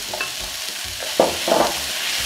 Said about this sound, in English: this has been frying for a minute or so